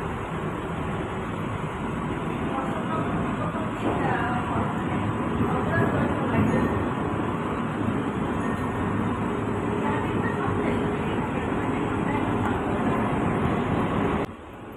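Steady, loud rumble and rattle from inside an air-conditioned local train in motion. The noise runs without a break for the whole stretch and eases off slightly at the very end.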